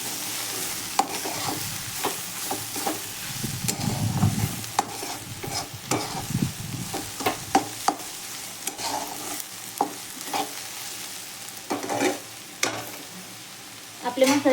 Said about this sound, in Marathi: तेलामध्ये जरा फ्राय होईल ना ते पण मसाले